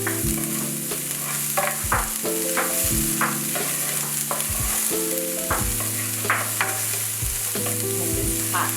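Celery and onion sautéing in a hot pan over medium heat, a continuous close sizzle with repeated spoon or spatula scrapes, while a steady background tone hums underneath.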